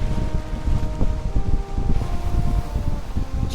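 Strong wind roars while sailing a boat in the video game Valheim, a loud, constant gusty rush with low buffeting and faint tonal hums, no speech.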